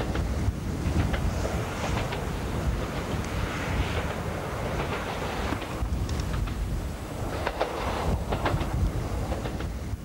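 A passenger train runs along a valley-side railway line in South Wales, giving a steady rumbling roar with wind buffeting and faint rhythmic clicks over the rails, continuous and fairly distant, with no voices.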